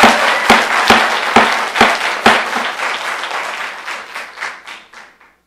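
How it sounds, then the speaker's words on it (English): A meeting audience breaks into loud applause, sharp clustered claps at first, then thinning and fading out over several seconds. "you need to refrain from applauding and clapping and yelling and what have you"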